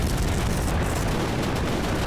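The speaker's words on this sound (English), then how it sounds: "So many explosions." Continuous loud explosions and battlefield blasts in the WWII shooter Easy Red 2, a dense, unbroken roar of booms and rumbling close at hand.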